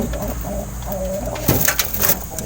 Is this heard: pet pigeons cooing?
yes